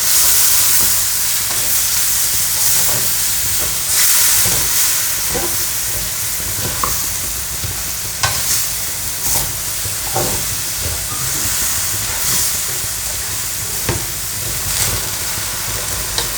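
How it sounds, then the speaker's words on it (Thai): Washed raw rice stir-fried in a hot pan, giving a loud continuous sizzle and hiss with rhythmic scraping of a spatula across the pan, heard up close and alone. "ข้าวสารของเรานะคะ ที่เราล้างทำความสะอาดไปเรียบร้อยแล้วนะคะ ผัดเลยค่ะ"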